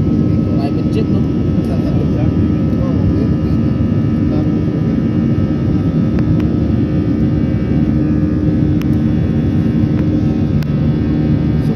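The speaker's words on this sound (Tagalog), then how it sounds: "Private jet, no?" Private jet aircraft engine, a loud, steady roar that holds without a break the whole time.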